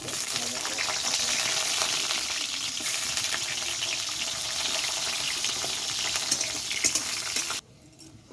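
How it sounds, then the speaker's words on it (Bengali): Pointed gourd (potol) pieces fry in hot oil for a Bengali mixed vegetable curry, producing a loud, dense, continuous sizzle with faint clinks, which drops off abruptly near the end. "শুধু পটল ভেজে নেব"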